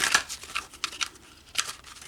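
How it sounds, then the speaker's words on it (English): Tarot cards being shuffled by hand in a quiet room, giving a few quick papery riffles and snaps in short bursts, close and fairly soft, with no talking. "One more shuffle and then we'll take"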